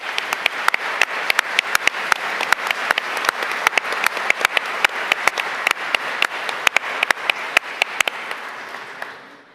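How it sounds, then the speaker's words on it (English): A courtroom audience at a state supreme court justice's robing ceremony gives a round of applause, with crisp, dense clapping and a few sharp claps standing out before it fades away at the end. "could you all please stand and be recognized so we can give you a round of applause?"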